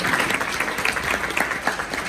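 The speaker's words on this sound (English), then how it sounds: "Please round of applause for all of them." Dense, loud applause from a conference crowd, steady and unbroken for its full length.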